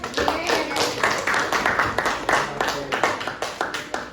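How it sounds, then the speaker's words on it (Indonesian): A class of schoolchildren clapping their hands together, a steady run of distinct close claps over several seconds, with voices present among them. "tepuk tangan dulu untuk kalian semuanya"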